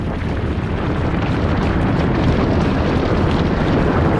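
A documentary effect of the Vesuvius volcano erupting fills the space with a dense, continuous roaring rumble, loud and unbroken, like a massive explosion sustained throughout.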